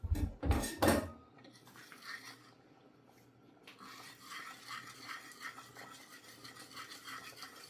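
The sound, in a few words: stirring cheese into milk in a pot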